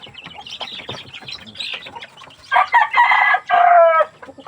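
Many chickens clucking and chattering close by, then a rooster crows loudly twice over the flock's noise.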